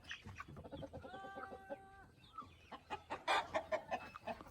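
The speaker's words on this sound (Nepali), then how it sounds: "यस्तो छ है हाम्रो कुखुरा, हाम्रो घरको कुखुरा।" Domestic backyard chickens cluck in a steady run of short calls, with a few longer drawn-out notes, heard close and alone with no talking.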